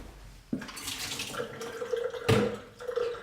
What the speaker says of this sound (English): So what I'm gonna do is I'm gonna rinse them and drain them.